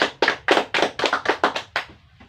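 A classroom of students claps for a pupil, about nine or ten bursts of clapping close together, fading out near the end.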